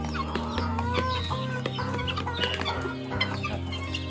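Several guinea fowl clucking and chattering close by at feeding time in a continuous, busy flock chorus, with an occasional louder squawk.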